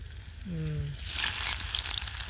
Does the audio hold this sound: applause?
no